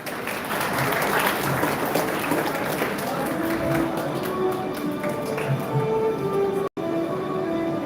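Audience applause at a school prize announcement, a dense sustained patter of many hands clapping, loud and continuous with a faint tonal sound rising underneath near the end.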